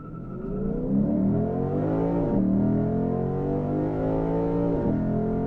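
A 2022 Lexus IS 500 F Sport Performance V8 launches hard from 1500 RPM in Sport Plus with traction control off, its loud engine roar climbing steadily, dipping briefly at two quick upshifts, then pulling upward again without any talk.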